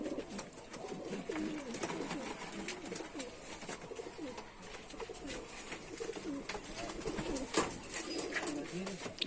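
Pigeons in a loft coo continuously in low, rolling, overlapping calls close by, with a faint background hiss and an occasional soft thump.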